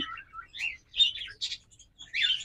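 Pet black opaline birds in a crowded bird shop, bright rapid chirps and short tweets in overlapping bursts, fairly close and clear over a quiet room, no talk.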